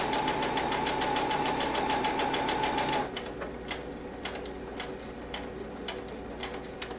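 A Brother Innov-is NS 2750D sewing and embroidery machine runs a quick, rapid ticking stitch sewing a quilt square, then slows into sparser clicks and knocks as it makes a few back stitches.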